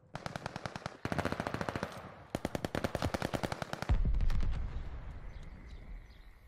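Rapid automatic gunfire rattles at the hardpoint during a ranked multiplayer match of a video game, in several close, loud bursts with short gaps between them, ending in a heavy low boom that fades out.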